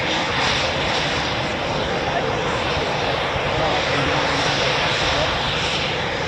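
Continuous steady roar of Eurofighter Typhoon FGR4 jet engines at an RAF station, loud and unbroken throughout, with someone talking over it.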